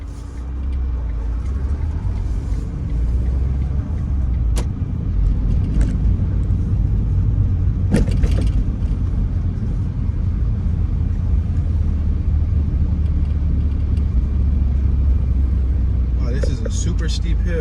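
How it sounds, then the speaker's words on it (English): A car grinds up a very steep hill in first gear through the Buena Vista Heights neighborhood of Nashville, its steady low engine rumble running throughout with a few brief clicks and knocks. "Super steep hill, guys. Ooh, I had to switch gears. I had to switch to the first gear."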